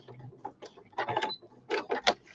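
A sewing machine stitches a fabric machine cover in several short, separate bursts of mechanical whirring with brief pauses between runs, close and fairly quiet.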